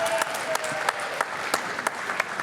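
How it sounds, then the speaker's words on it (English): A conference audience claps in steady, scattered applause, a brisk run of sharp individual claps that sounds like a small crowd at a business leadership event. "Give him a round of applause."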